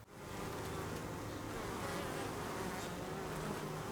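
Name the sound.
honey bees buzzing at a beehive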